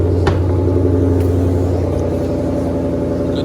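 A 2020 Ford Mustang GT500 idles with a deep, loud, steady rumble close by, holding an even throbbing tone for the whole stretch with a brief click near the start.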